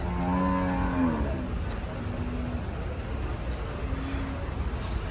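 Cattle lowing at the Gabtoli Qurbani cattle market in a busy outdoor haat, with one loud, drawn-out moo near the start over steady crowd and traffic noise, followed by fainter moos further off.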